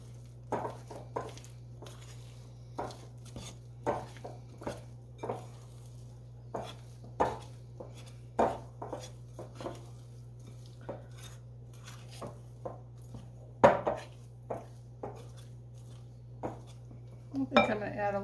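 Flour being stirred into dumpling dough in a bowl for chicken and dumplings, heard as repeated close scraping and clinking of a utensil against the bowl in an irregular rhythm, with a steady low hum underneath.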